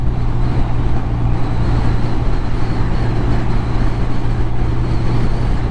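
A BMW R12nineT motorcycle cruises in fifth gear as the throttle is rolled on and off, making a loud, steady engine drone mixed with heavy wind rush, heard from the rider's position with no one talking.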